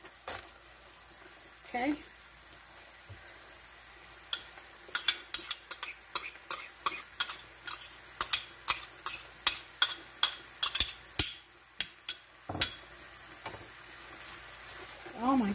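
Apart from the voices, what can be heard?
onions and peppers sautéing in a pot, stirring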